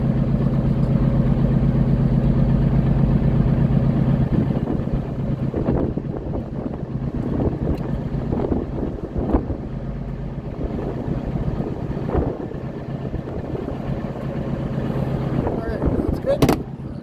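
A Detroit Diesel engine idles in a Transtar truck, a steady low rumble with wind buffeting the microphone; after a few seconds it drops back under bursts of nearby talk.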